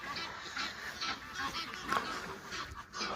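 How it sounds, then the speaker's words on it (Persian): Geese honking with other birds calling outdoors, a series of repeated nasal honks at moderate distance, fairly faint, over soft background noise. "با صدای پرنده ها"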